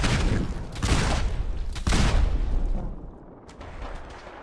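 Gunfire in Fallout 4: a dense burst of shots and booms loud up front, with two sharp louder cracks, then thinning to scattered fainter reports.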